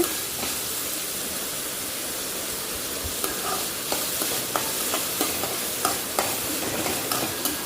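Grated coconut sizzles in a pan while a utensil stirs and scrapes it, making light rhythmic clicks over a constant frying hiss. The sound is close and moderately quiet, with no talking.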